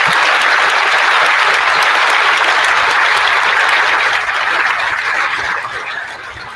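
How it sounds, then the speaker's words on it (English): Sustained applause from a graduation ceremony audience, steady and full for several seconds before gradually thinning and fading toward the end. "I'd now like to ask for a round of applause for the people in our lives that make life worth living"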